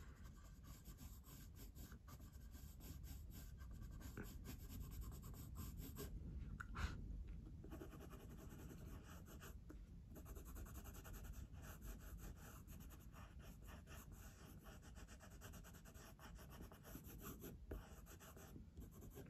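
A pale neutral coloured pencil buffs and shades across paper in a robin drawing, giving a soft, continuous scratchy rubbing close up and faint, in long strokes with brief pauses.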